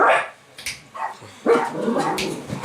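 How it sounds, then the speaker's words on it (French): Several dogs bark in short, loud bursts in a home, overlapping in a quick irregular volley with a faint growl mixed in. "Ça, c'est mes chiens qui aboient à chaque fois."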